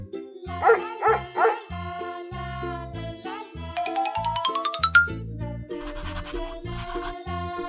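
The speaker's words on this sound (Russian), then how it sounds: "Собака." A dog in a children's cartoon about farm animals barks three quick times, followed by a rising tinkling jingle and a scratchy shimmering effect over a bouncy backing tune.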